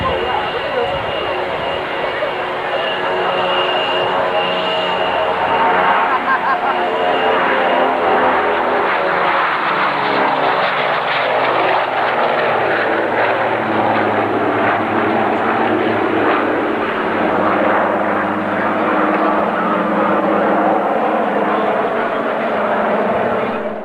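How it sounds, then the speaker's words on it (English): A four-engined Avro Shackleton propeller aircraft drones loudly overhead in a low pass, its engine pitch sliding downward as it roars by and recedes. "look at this low pass of the Shackleton."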